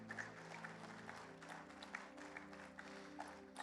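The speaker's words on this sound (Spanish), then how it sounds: "dan un fuerte aplauso a ese Rey de Gloria" Church congregation applauding during a sermon, a fairly quiet, continuous patter of clapping with a sustained musical drone or keyboard tone underneath, no speech on top.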